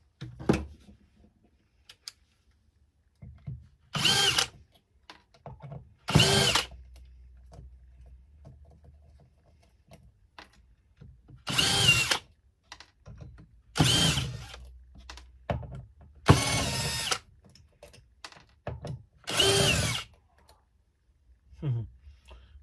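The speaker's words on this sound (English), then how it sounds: "Find a drill bit that will take these." Several short bursts of a power drill whirring, each lasting about a second, separated by quiet pauses, close up with no talking, while taking apart a Huawei LTE 4G base station.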